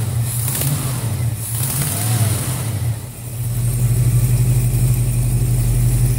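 A 1966 Ford 428 V8 with a Holley four-barrel carburetor and a Crane cam runs close by, a deep throbbing idle that dips briefly and then swells into a louder, sustained rev.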